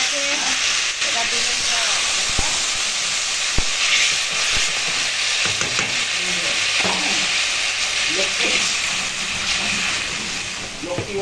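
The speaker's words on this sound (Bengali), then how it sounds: "এবার আনাজটা একটু কষিয়ে নিয়ে তারপর জল দেবো।" Vegetables sautéing with spices in a pan for a village-style Bengali meal, a steady sizzle and hiss with scraping stirs throughout, close and continuous.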